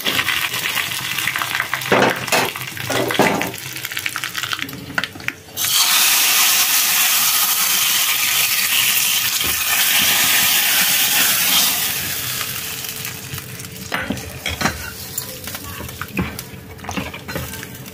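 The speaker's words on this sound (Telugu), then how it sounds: "తాలింపు కొరకు ఆయిల్ వేడెక్కిందండి. ఇందులో కొద్దిగా పోపు దినుసులు, అలాగే ఎండుమిర్చి, కొద్దిగా కరివేపాకు, కొంచెం హింగు వేసుకోవాలండి." Dried chillies, curry leaves, tempering spices and a pinch of hing hit hot oil for an udipi sambar tempering, bursting into a loud, steady sizzle and hiss that holds strong before easing, with a few stirring clinks.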